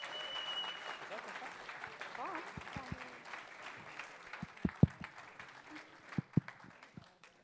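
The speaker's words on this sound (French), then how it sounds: "ça suffit pas les applaudissements là," Applause at a conference opening, heard as sparse, faint claps scattered across the stretch, with a murmur of voices underneath.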